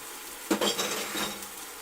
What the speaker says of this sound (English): we are going to get these patties right in the pan